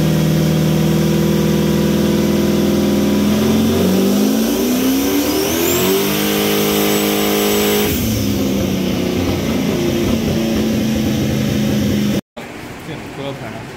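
A GT45-turbocharged 5.3 engine runs on a dyno: a loud, steadily climbing rev that peaks and drops back, then the sound cuts abruptly.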